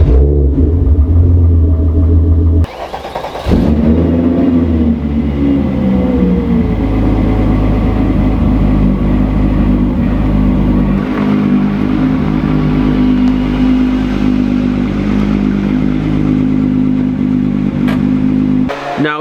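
Cars are pulled out of a garage, their engines rumbling loudly and close, with a brief revving burst near the start, a sharp clunk, then a sustained deep idle and low throttle rumble continuing to the end.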